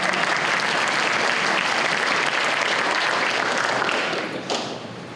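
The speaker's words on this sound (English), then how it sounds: "Can Ms. Cavazos get a round of applause?" Steady, dense applause from an audience at a school awards ceremony honoring teacher Ms. Cavazos, sustained throughout before tapering slightly near the end.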